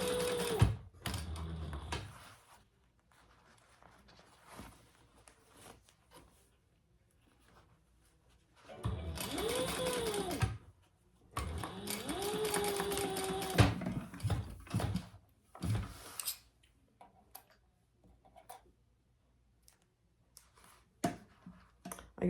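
A sewing machine back-stitching to re-sew the seam of an eyeglass case, running in short bursts with a longer stretch of whirring stitching in the middle, separated by quiet pauses with faint clicks and handling noises.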